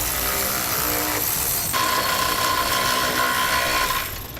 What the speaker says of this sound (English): We'll then tighten both of those down using a 9/16 socket.